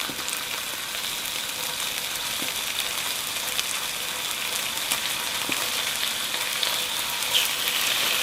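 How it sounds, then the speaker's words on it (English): Shrimp sizzle steadily in a hot frying pan, a continuous crackling hiss with occasional pops, close and fairly loud, no talking. "Oh, hear them sizzle?"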